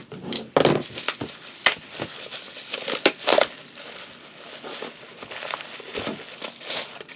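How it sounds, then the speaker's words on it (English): A cardboard mail package being cut and pulled open, close crinkling, crunching and tearing of packing material in irregular bursts with short quieter gaps. "let's just go ahead and cut her open."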